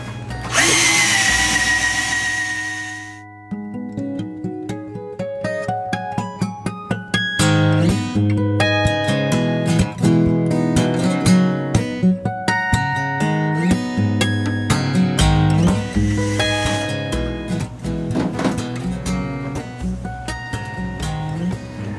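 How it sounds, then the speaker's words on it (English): A power drill whirs briefly, then a nylon brush spins against a waxed snowboard base with rising and falling tones and scrubbing, loud and close. "I like to break out the drill"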